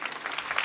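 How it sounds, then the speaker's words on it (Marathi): Audience applause during a Marathi devotional kirtan discourse, a brief dense patter of many hands clapping steadily with no voices. "टाळ्या वाजवा ना जोरदार."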